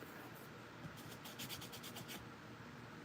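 Dried mica paint on a craft piece is rubbed in short, quiet back-and-forth scratchy strokes, faint and close, with no talking.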